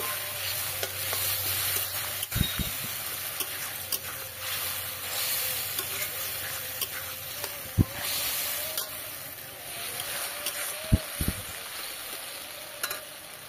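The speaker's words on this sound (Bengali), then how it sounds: "এখানে আদা রসুন বাটা। একটু জল দিয়ে কষিয়ে নেব।" Ginger garlic paste fries with a splash of water in a pan, a continuous soft sizzle broken by several sharp knocks and scrapes of a spoon stirring.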